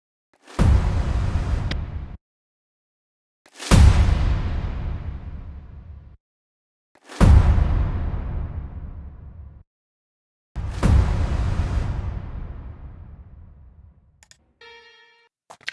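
Four riser-and-impact effects from a metal mix, each a loud low-heavy hit decaying over about two seconds with gaps between, the later ones with the whistly part EQ-cut, followed by a faint clicking tail.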